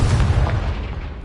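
A Confringo blasting spell explodes in a Harry Potter video game, giving one short, heavy, booming burst that rolls off quickly, loud and close, with no voices.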